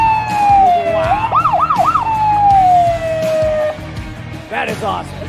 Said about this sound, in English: when we score, the lights and sirens go off